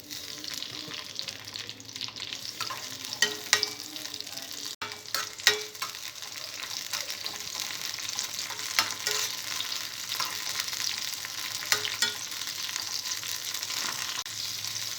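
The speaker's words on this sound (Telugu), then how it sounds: "ఆయిల్ వేడిన తర్వాత పచ్చిమిరపకాయలు ఫ్రై చేసుకోవాలి." Green chillies fry in hot oil in a pan with a steady crackling sizzle, punctuated by occasional sharp pops and stirring scrapes, heard up close without any voices.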